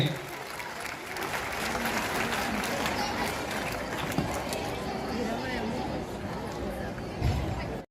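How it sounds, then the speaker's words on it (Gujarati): An audience at an annual school function breaks into loud, sustained applause, many hands clapping together in a dense, steady roar for several seconds, with some crowd voices mixed in. "ભાઈ જોરદાર તાળીઓ થઈ જાય એક સાથે"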